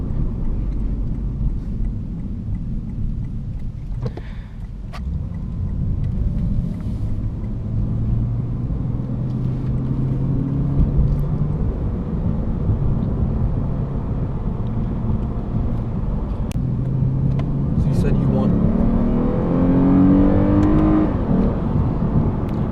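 A 2015 Lexus RC350 F Sport cruises at highway speed, with a steady low road and engine rumble and tire roar heard from inside the cabin, holding an even level for the whole stretch with a slight swell near the end.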